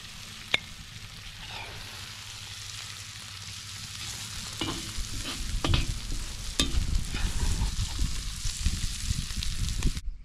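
Mushrooms, onions and carrots fry in a pan, giving a steady sizzle broken by sharp clicks and scraping stirs that grow busier and louder toward the end, with no one speaking.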